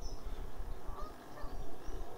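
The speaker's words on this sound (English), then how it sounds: "wildfowl wise, we've got some Canada geese and big flocks of a mixture of various ducks" Canada geese honking among mixed flocks of ducks on open water, a busy overlapping chorus of calls that carries from a moderate distance, with no talking.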